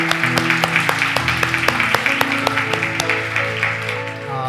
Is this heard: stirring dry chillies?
no